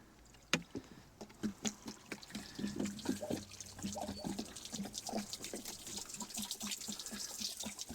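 Liquid is poured from a container into the engine block of a Mercruiser boat engine during winterizing, giving a close, gurgling, splashing trickle that continues unevenly for several seconds after an initial knock.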